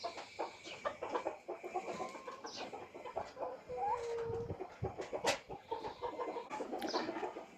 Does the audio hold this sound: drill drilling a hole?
no